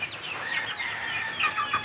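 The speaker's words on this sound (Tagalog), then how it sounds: "Ating mga alagang manok." Pet chickens clucking softly nearby outdoors, a few faint overlapping clucks and calls over quiet background noise.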